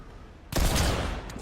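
Gunfire in the battle royale video game Fortnite: a sudden loud burst of shots after half a second of quiet, sustained and dense, tapering slightly with a couple of sharp cracks near the end, with no talking.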